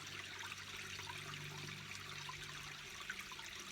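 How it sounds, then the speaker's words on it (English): Water flows steadily in a soft, continuous rush with a faint trickle, even and fairly quiet from start to finish, with no voices over it. "just listen to the water"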